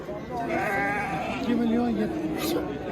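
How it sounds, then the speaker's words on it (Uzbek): Close goat bleats rise and waver over a steady murmur of voices and chatter at an outdoor market. "Ham echkini qaranglar, chiroyli echkilar."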